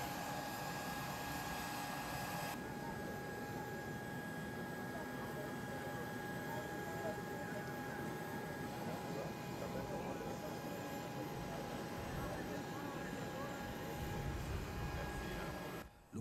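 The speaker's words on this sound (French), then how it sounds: "l'avion présidentiel atterrit à l'aéroport national de Mwanda" A presidential airplane landing at Mwanda national airport in the Democratic Republic of the Congo, heard as a steady, broad engine roar with a constant high whine that holds loud throughout before cutting off at the end.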